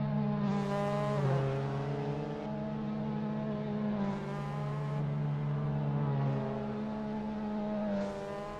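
Mazda MX5 Cup race cars in a racing game roll out onto the Imola track, with engines droning steadily and rising and falling as they shift through gears, several cars layered together and no voices.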